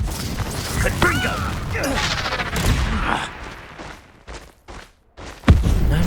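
A Confringo fire-blast spell bursts in the Hogwarts Legacy video game, loud booming thuds and crashing impacts amid busy combat noise with speech over it.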